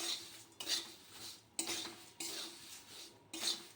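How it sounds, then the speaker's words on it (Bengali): Fried flattened rice being tossed with curry leaves in a pan, heard as a run of scraping, clinking spatula strokes against the metal in bursts, close and fairly loud with no speech. "ভেজে রাখা চিড়েটা এর মধ্যে দিয়ে এখন মিশিয়ে নিচ্ছি"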